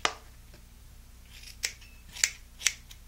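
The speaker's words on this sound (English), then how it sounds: "I like to cut mine up and cut some in a bowl." Scissors snipping hair into a bowl for drag king stubble, a few crisp separate cuts, close and quiet in a still room.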